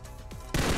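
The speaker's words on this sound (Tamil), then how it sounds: "கீழே பார்த்தா ஒரு கன் சவுண்டு" A gunshot in the mobile battle royale game BGMI, a loud sudden blast that follows a brief quieter stretch of in-game sound.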